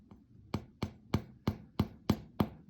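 Knuckles rap on the crust of a freshly baked sourdough loaf, seven evenly spaced hollow thumps close up over a faint background hum.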